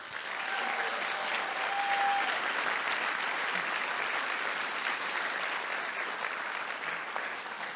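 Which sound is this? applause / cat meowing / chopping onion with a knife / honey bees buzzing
applause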